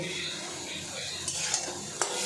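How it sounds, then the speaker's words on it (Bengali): Spice paste being stir-fried with vegetables in a pan: a dense, continuous close sizzle with occasional spatula scrapes and knocks against the metal. "এই মশলাটা যতক্ষণ না ভালো করে সবজির সাথে ভালো কষানো হচ্ছে, ততক্ষণ একটু কষাবো"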